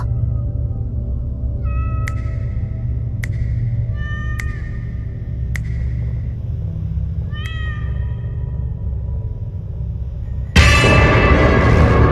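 Several short, clear cat meows spaced a second or so apart over a low steady hum, then a burst of loud broadband noise near the end.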